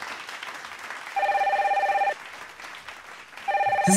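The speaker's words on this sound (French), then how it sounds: "Ça, c'est le téléphone rouge." A toy red telephone in a Playmobil Secret Story house rings in two short electronic bursts of trilling bell tone separated by a pause, clear and close over a faint background hiss.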